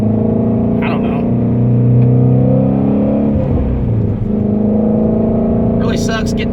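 A 2016 Shelby GT350 Mustang engine hums in a steady, loud drone while cruising a country road, heard from inside the cabin with a person talking over it.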